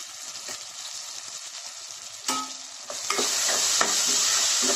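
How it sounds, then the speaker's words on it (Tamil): Coriander and mint leaves frying and being stirred in a pan for chicken biryani, with a soft steady sizzle, scraping stirs, and a louder burst of sizzling that continues near and clear without talk. "இது ரெண்டும் நல்லா வதங்குதுங்க."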